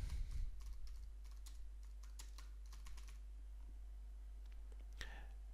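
Typing on a computer keyboard while entering a title: a series of light, fairly quiet key clicks over a steady low hum, thinning out toward the end.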